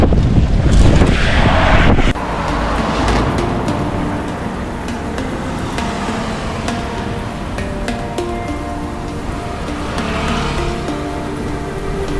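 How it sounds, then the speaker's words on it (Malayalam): Strong cyclone wind buffets the microphone with heavy rain on the Kerala coast at Thottappally, a loud continuous roar and rush with sea surge, harshest gusts at the start, no talking. "കാറ്റും മഴയും അതുപോലെ പ്രശ്നമാണ്. കടൽ ഇങ്ങോട്ട് കയറുകയാണ്."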